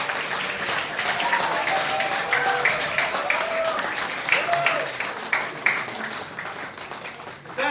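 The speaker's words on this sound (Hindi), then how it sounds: "वो जोरदार तालियां जरूर मिलेंगे।" Audience applause fills a hall at a Rotary Club anti-drug and mental health awareness event, a dense steady wash of many hands clapping throughout, with voices and tonal sounds layered over it.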